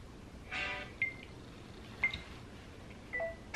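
A phone timer being set, three short electronic beeps about a second apart with a soft tap before them, faint and close in a quiet room.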